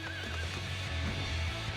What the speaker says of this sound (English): this horse kicks ass